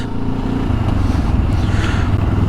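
A Benelli TRK 702 X motorcycle engine drones steadily at highway cruising speed, with continuous low rumble and wind noise throughout.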